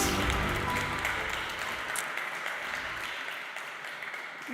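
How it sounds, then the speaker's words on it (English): An audience applauds award winners from Thailand at a branding awards ceremony in the Hofburg Palace in Vienna, a clapping burst that is strongest at first and then slowly thins and fades. "A big applause for the winners from Thailand."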